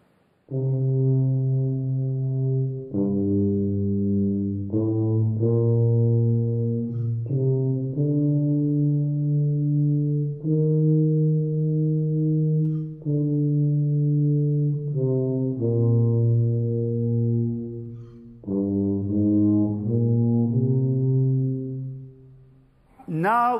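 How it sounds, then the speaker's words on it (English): A musical theme played slowly on a tuba, loud and close, with long sustained low notes changing pitch one after another for over twenty seconds. "a slowed down version of the theme on the tuba"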